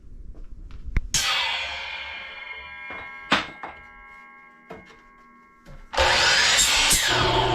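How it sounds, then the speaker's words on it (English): Power drill boring holes through wooden boards for an RC crawler course, short sharp bursts and knocks with gaps of ringing quiet, then a loud sustained drilling run at the end. "while he's drilling the holes in these boards right here"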